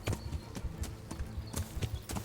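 Horse hooves clip-clopping in the medieval game Kingdom Come Deliverance, a steady run of close, loud hoof strikes repeating evenly across the whole stretch with no one speaking.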